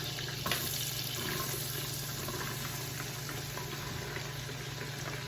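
Mirepoix sizzles in melted butter in an Instant Pot, a steady close frying hiss that holds at an even level and runs alone without talk.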